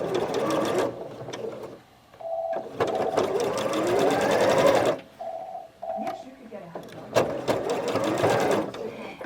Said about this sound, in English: I'm sewing on bias, so I'm being very careful.